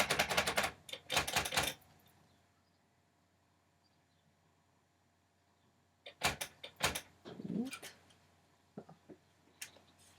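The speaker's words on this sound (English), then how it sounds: "I mean, it's just a typewriter, really." A retro manual typewriter being operated close by, with bursts of sharp key strikes and carriage clacks at the start, a quiet pause, then another run of typing and clatter toward the end.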